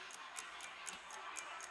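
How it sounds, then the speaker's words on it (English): A wall clock ticks indoors, about four even, sharp ticks per second, faint and steady against a quiet room hiss. "I can hear a clock on my wall."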